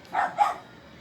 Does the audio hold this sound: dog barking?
yes